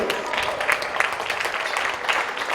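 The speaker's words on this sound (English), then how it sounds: "How about another round of applause for Frost and Frost" Audience applause at a polo club trophy ceremony at The Villages Polo Club, a steady, continuous patter of many hands that stays fairly even throughout, with no talk standing out above it.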